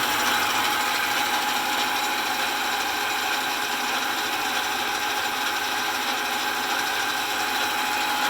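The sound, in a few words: South Bend 9-inch Model A lathe cutting metal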